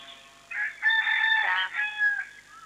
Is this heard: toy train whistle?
no